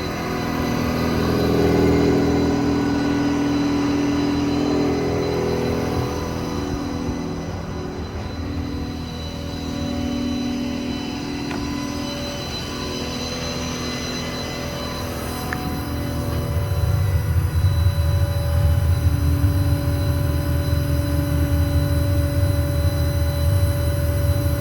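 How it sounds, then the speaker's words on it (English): An air compressor on a 2018 Ford F550 diesel 4WD service truck with a Stellar 7621 crane and Knapheide body, a steady mechanical drone over an idling engine that grows louder and rougher partway through, with no talking. "commanded the compressor on, so now the compressor's running"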